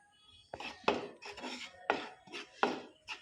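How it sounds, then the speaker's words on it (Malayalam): A spoon scrapes chilli, pepper, turmeric and coriander powders around a hot pan in about eight close, rhythmic strokes, each a short dry rasp, with no voices. "ഇത് നല്ലപോലെ ചൂടാക്കി പച്ചമണം പോവുകയോളം ഞാൻ ഇളക്കി കൊടുക്കാൻ പോവാം"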